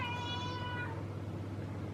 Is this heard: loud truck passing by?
no